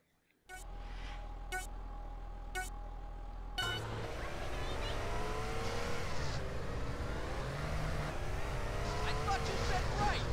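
Car engines in GTA San Andreas idle with a few short horn-like beeps, then rev up and roar continuously as the race starts, pitch rising and falling through gear changes, with voices speaking over the start.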